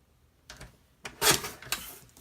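Paper cutter slicing through card stock to leave a small border, a few short sliding and chopping strokes at close range, the loudest cut in the middle, with no talking.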